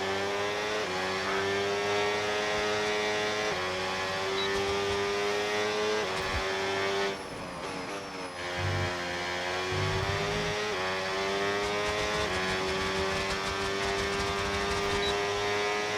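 Formula 1 car engine in the F1 26 racing game, a sustained high-pitched whine rising and falling through gear changes, with a brief lift near the middle before the revs climb again.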